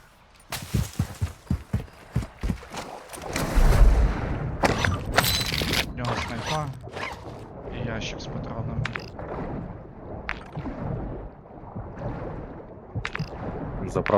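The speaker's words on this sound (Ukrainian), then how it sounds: "Постріли, хто стріляв?" Sharp gunshots crack in quick bursts in the video game Call of Duty: Warzone DMZ, then more shots among rumbling game noise, with voices talking over it.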